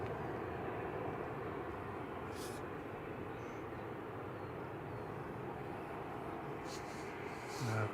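Aircraft flying over Manchester Airport, a steady distant low engine roar lasting throughout, with faint voices nearby.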